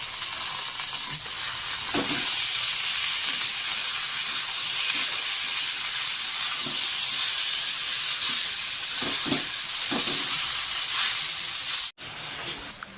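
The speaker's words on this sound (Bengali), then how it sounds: "চাউলগুলোকে আমি 5-7 মিনিট ভালো করে ভেজে নিয়েছি।" Bhog rice for basanti pulao fries in a pan with a steady, loud sizzle and hiss that holds throughout, with occasional soft stirring scrapes before stopping abruptly near the end.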